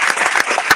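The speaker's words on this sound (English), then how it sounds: "I think that we really deserve a round of applause" At a Cuba solidarity rally in Miami with Governor DeSantis, a crowd's applause comes through as a short, dense burst of clapping with a few sharper individual claps.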